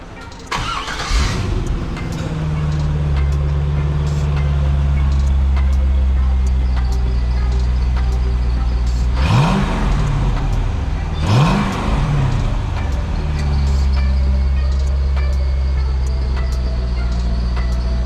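A car engine with a new Borla S-Type exhaust idles with a deep rumble, then revs sharply twice in quick succession before settling back to a steady idle.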